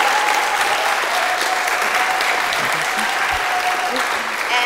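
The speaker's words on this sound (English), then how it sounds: "Give them an applause." An audience at a university stage event applauds in a sustained, even burst of clapping that holds steady throughout, with faint crowd murmur underneath.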